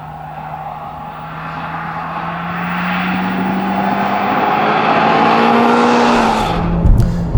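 A Mitsubishi Evo project car, freshly corner-balanced and aligned, drives on a closed course, its engine note climbing steadily in pitch as it accelerates, loud and close, with a brief tyre scrub near the end.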